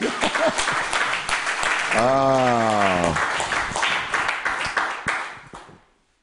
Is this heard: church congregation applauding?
yes